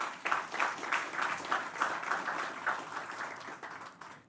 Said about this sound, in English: So I want to give that a round of applause,